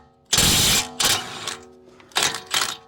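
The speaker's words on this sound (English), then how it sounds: "I'm gonna try the mid-torque here, the mid-torque Milwaukee, see if that's strong enough to take them off" A Milwaukee mid-torque impact wrench rattles loose the caliper bolts on a 2016 Audi Q5, firing in several loud, close hammering bursts separated by short pauses.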